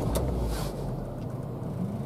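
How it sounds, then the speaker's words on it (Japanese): A Renault Kangoo with about 63,000 km, heard from inside the cabin, starts its engine with a brief burst and settles into a steady, low idle rumble. "じゃあエンジンの方かけていきますね。"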